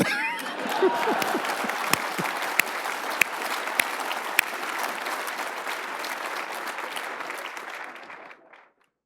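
Sustained applause from an audience at a speaking event with Deion "Coach Prime" Sanders, dense and steady with a few sharp individual claps standing out, fading away near the end.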